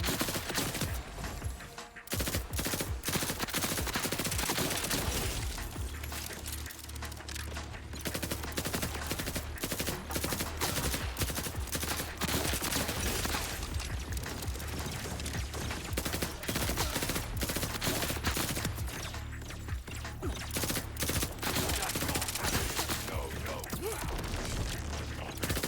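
A level 37 SMG in a video game fires rapid, dense bursts almost nonstop, with loud crackling volleys and brief gaps between strings of shots.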